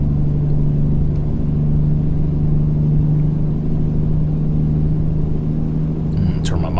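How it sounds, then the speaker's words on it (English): A truck engine in a truck driving video game rumbles with a low, steady, continuous hum throughout, loud and unchanging, with a faint sharp sound near the end. "the truck's getting loud again"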